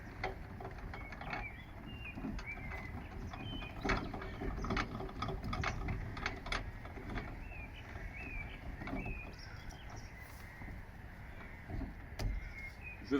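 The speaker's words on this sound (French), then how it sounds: "Je vais remonter la roue jockey." A trailer's jockey wheel is wound back up by hand crank on a hitched vehicle, giving a steady run of close ratcheting mechanical clicks and ticks for about thirteen seconds, with no talking.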